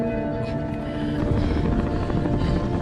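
A military rescue helicopter in a war film set amid Taliban fighters gives a steady, dense rotor and engine drone that fills the whole stretch at constant loudness.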